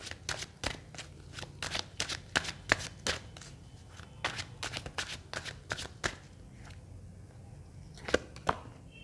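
Tarot cards shuffled by hand in quick riffling bursts, a run of sharp crisp flicks close to the mic, a brief pause, then a few more flicks toward the end.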